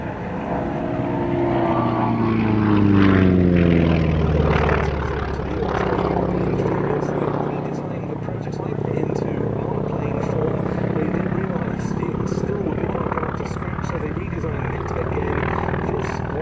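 A Grumman F4F Wildcat propeller fighter passes at the Duxford Battle of Britain air show, its engine drone rising loud then sliding down in pitch as it flies by, then a steady distant hum while a commentator talks throughout.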